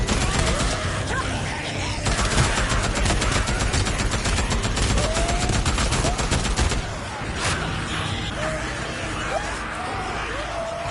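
Rapid bursts of automatic gunfire in the PS5 game Days Gone, sustained dense volleys for about seven seconds, then scattered single shots and in-game clatter.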